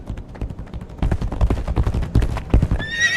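Galloping hooves clatter in a rapid clip-clop rhythm beneath a loud horse whinny in the dark-fantasy video game Legacy of Kain: Ascendance, ending in a bright, high neigh.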